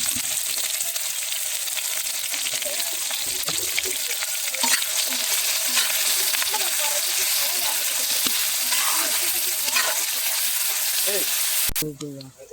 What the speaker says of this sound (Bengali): তেলটা গরম হয়ে গেছে, এখন পেঁয়াজ বাটা,